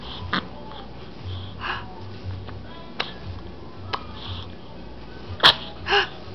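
After a quiet stretch with faint taps, two small sharp sneezes burst out close together near the end.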